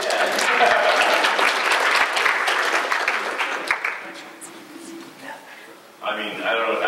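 A convention panel audience at C2E2 gives a burst of applause that fades after a few seconds, and then a voice speaks.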